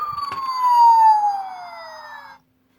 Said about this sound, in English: if you press that, of course, we get sirens.